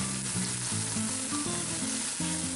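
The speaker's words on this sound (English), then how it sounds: "You see our pan smoking nice and hot. Put the pork chop in." A pork chop sears in a smoking-hot pan with a loud, dense, unbroken sizzle heard up close, and a steady background tone runs beneath it.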